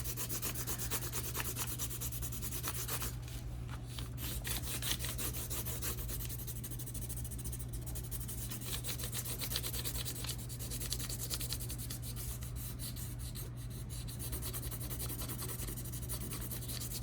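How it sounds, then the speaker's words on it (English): A pencil pressed hard rubs back and forth over paper in a steady, continuous scratchy scrubbing, close and fairly quiet, with a low constant hum behind it and no voices. "Press hard with your pencil."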